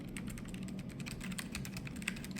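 Steady, quiet typing on a NocFree Lite keyboard fitted with Kailh Hush Deep Sea switches, a soft muffled run of rapid keystrokes heard alone in a quiet room.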